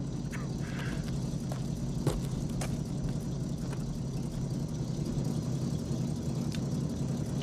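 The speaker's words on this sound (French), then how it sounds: "Il a son chauffeur et sa voiture particulière." A chauffeur-driven private car's engine runs steadily nearby, a low continuous rumble with faint mechanical ticks and no change in pitch over several seconds.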